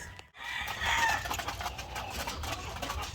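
White Leghorn chickens cluck and call on a poultry farm, a steady chorus of nearby birds filling the clip after a brief silent gap at the start.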